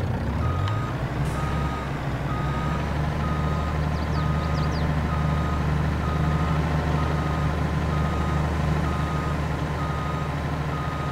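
A reversing truck in Farming Simulator 22 gives a steady run of repeated high beeps over a constant low engine rumble, loud and close, with no voices.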